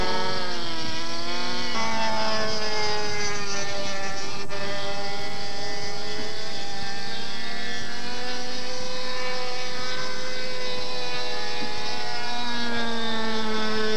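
A small propeller engine on a scratch-built radio-controlled model airplane drones steadily with shifting pitch as it passes overhead, rising and falling in tone, no voices.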